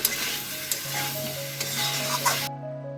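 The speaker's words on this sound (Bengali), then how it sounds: "ওলার আলু দিয়ে দেবো এভাবে আমি খানিক্ষণ কষিয়ে নেবো" Yam and boiled potato pieces sautéed in spiced oil in a pan, giving a close, steady sizzle with a few scraping stir strokes over a short stretch, ending abruptly.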